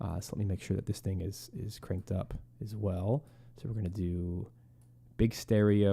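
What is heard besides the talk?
None of the usual background noises is heard.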